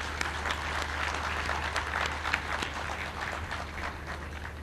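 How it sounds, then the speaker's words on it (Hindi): Sustained applause from a large audience at a political speech by Punjab's chief minister, steady dense clapping throughout with no talk over it. "आप सब मेरे साथ मिलके तालियां बजाएं।"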